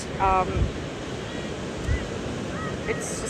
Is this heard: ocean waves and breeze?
yes